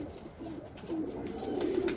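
Pigeons coo softly in a rooftop loft, low throaty murmurs rising and falling against faint background noise, with no voices.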